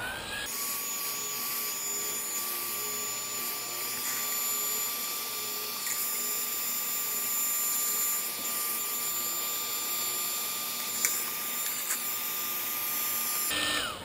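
A heat gun set on low runs in a steady, continuous whir while warming the emblems on a Subaru WRX STI, holding an even drone from start to finish with no talk over it.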